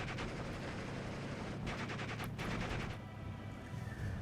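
Artillery and gunfire in a WWII strategy video game, with bursts of rapid gunfire and heavy booming blasts over a constant low battlefield rumble.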